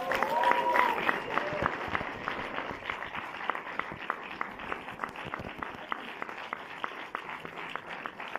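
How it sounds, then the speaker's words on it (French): Cinema audience at a film premiere applauding the film team, a soft, steady patter of many hands at a distance, with a few louder sharp claps punctuating it and faint voices early on. "je vous redemanderai des applaudissements pour l'équipe du film"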